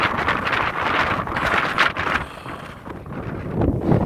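Strong gusty wind on a mountain trail roars and buffets the microphone continuously, loud and close with surging rushes and no pauses.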